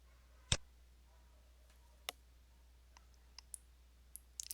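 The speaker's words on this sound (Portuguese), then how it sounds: "Bom, então vou clicar nele." Computer mouse clicks while working in Power BI, one sharp click followed by several fainter, scattered clicks, close and quiet over near silence.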